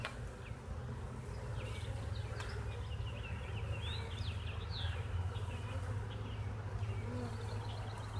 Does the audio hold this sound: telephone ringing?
no